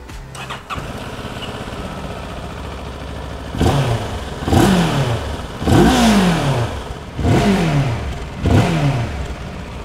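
A CFMOTO 700MT motorcycle's 693 cc two-cylinder engine is started, then revved in five distinct throttle blips, each rising and falling. It sounds close and loud, with no talk.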